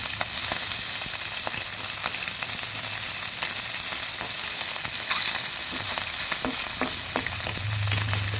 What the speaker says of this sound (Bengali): এভাবে আমি সবগুলো মাছ ভেজে নেব